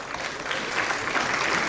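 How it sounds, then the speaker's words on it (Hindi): Applause from the audience at a book launch event: a dense, steady burst of many hands clapping at close range, loud and continuous, with no voices standing out. "जोरदार तालियां होनी चाहिए"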